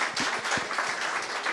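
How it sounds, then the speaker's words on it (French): Audience in a retirement-home event space clapping; a brief, moderately loud burst of scattered hand claps with sharp individual strikes over a steady murmur. "on l'applaudit"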